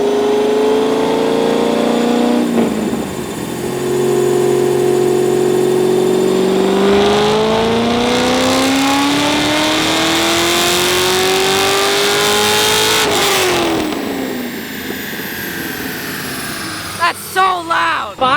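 A straight-piped Corvette engine revs hard nearby, its loud roar climbing steadily in pitch, then dropping away before a few sharp pops at the end.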